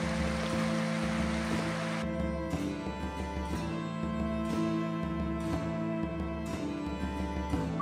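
A creek flows steadily through Göynük Canyon, a soft, even rush of running water heard alone at moderate distance, with no voices.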